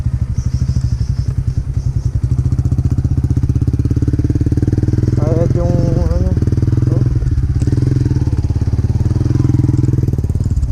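A motorcycle engine runs steadily and loudly up close the whole time, with people talking over its rumble.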